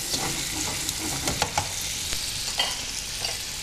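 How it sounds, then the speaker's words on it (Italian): Guanciale (pork cheek) fries in a pan for spaghetti alla carbonara, giving a steady close sizzle broken by occasional pops and crackles, with no talking. "Mi raccomando di farlo rosolare ben bene, perché così si marcherà molto il sapore del guanciale stesso."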